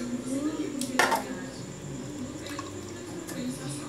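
Fresh water is poured into a small fish's container, with a trickling, dripping wash and a sharp clink of a dish near the start, all close by.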